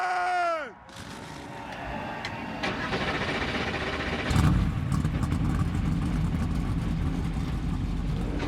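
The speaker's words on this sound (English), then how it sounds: "Drivers, start your engine!" A brief rising whine cuts off, then several NASCAR Cup Series race car engines fire up and settle into a loud, rough rumble that swells midway and keeps going.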